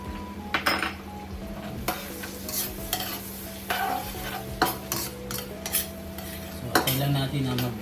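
Garlic frying in butter in a pan is stirred, giving repeated scraping and clinking of a utensil against metal over a steady soft sizzle, close and moderately loud.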